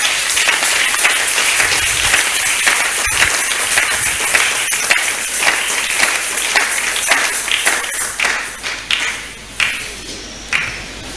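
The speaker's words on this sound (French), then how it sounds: "Est-ce qu'on peut acclamer très fort pour Jésus?" Church congregation applauding and cheering loudly for Jesus, a dense, sustained wash of clapping that thins toward the end into scattered individual claps.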